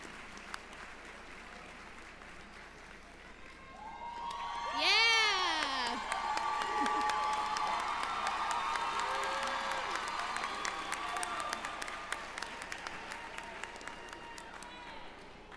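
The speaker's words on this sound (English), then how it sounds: "please stand and give them a round of applause" Applause and cheering from a graduation audience at the New Heights Charter School of Brockton ceremony, swelling to a peak with whoops and shouting, then settling into sustained clapping with a murmur of voices in the background.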